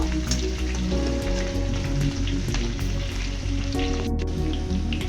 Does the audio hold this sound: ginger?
yes